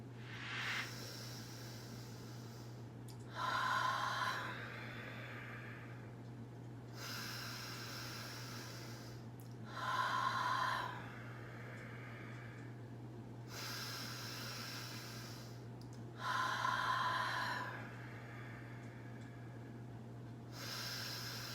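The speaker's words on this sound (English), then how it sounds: "Now that we've practiced our breathing" Slow, deep breaths in a seated yoga breathing exercise, with three long drawn inhale-exhale cycles over a steady low hum, near and unhurried, with no talking.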